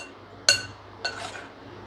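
A lid goes onto a bowl of dhokla batter in a home kitchen, with two sharp clinks about half a second apart, the first louder, then quiet.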